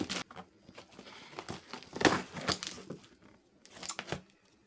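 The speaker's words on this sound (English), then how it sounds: "I just spent all that time cutting through the top of the box" Scissors cut into the top of a cardboard rollerblade box, producing irregular crinkling, snipping and tearing bursts up close, fairly quiet with pauses between cuts and no voices.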